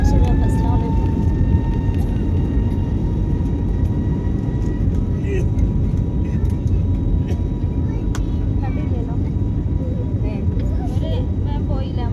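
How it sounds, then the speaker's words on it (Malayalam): Continuous heavy, low rumbling roar of an airplane taking off, loud and steady throughout, as if heard from inside the cabin. "അവിടെ ഒരു ഫ്ലൈറ്റ് പൊന്തണുണ്ട് ഗൈസ്. നമ്മളിപ്പോൾ പൊന്തു."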